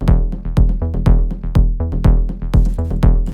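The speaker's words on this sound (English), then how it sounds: "we have really deep and dark kick and bass line" Deep, dark melodic techno kick and bass line in the Afterlife style: a loud, steady four-on-the-floor kick locked to a pulsing, rolling bass, heard alone without talk.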